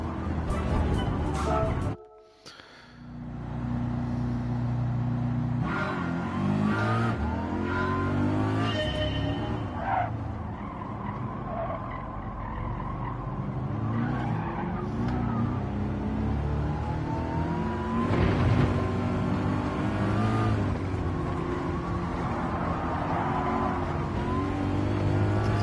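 A race car engine in Gran Turismo 7 drones and revs steadily, with shifting pitch as it accelerates out of a corner, after a brief dip near the start.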